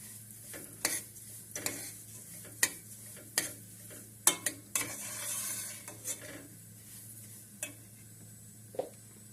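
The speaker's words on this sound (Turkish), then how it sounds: "Şimdi karıştırmaya devam ediyorum arkadaşlar helvayı." Semolina halva stirred in a pan with a little oil: a spoon scrapes and knocks against the pan in irregular strokes over a soft, steady sizzle, close and fairly quiet.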